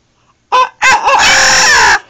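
A pet parrot imitates a rooster's crow: a short loud squawk, then a long drawn-out crowing call, close and clear with no talking.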